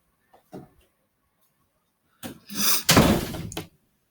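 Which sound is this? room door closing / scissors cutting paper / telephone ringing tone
room door closing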